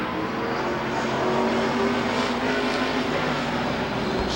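Race cars at Rockford Speedway in 1996 roar together as a lap gets underway, a dense, loud, continuous engine drone with no break and no talk.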